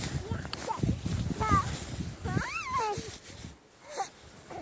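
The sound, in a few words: cat whining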